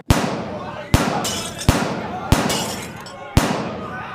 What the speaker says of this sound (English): 5 shots, people scattered, ducking, running for exits.